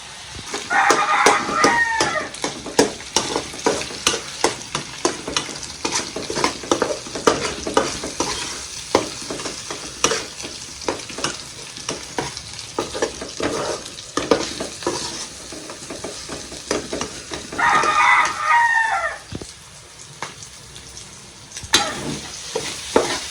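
Egg and corned beef sizzle loudly in a pan and are stirred in frequent scraping bursts, with a rooster crowing twice in the background and brief talk now and then.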